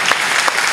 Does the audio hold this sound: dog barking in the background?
no